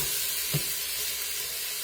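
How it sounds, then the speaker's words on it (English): Onions sear in a hot pan for BBQ chicken bowls, a steady loud sizzle and hiss throughout with one brief low knock partway through, close and without talk. "So you hear that nice sear."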